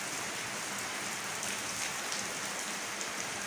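Steady, dense rain pours down in an outdoor downpour where people are bathing in it, a continuous close hiss of drops hitting surfaces with no pauses and no talking.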